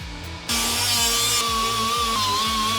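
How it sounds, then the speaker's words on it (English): A loud air-powered angle die grinder runs steadily against the metal body of a 1969 Mustang, its high whine holding after a quieter start, with compressor thumps pulsing underneath. "So I'm just using my angle die grinder, and then I'm just going to keep grinding until I see them."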